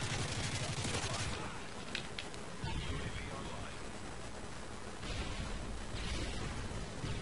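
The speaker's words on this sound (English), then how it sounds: "That was a sentry gun." A sentry gun fires in a first-person video game as dense, sustained bursts of gunfire that stay loud throughout, with game noise underneath.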